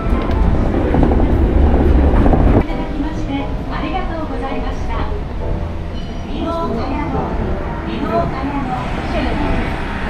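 A train ride in Osaka, with loud rumbling and rattling from the carriage throughout, a brief heavier burst at the start, and muffled voices and announcements running under the steady train noise.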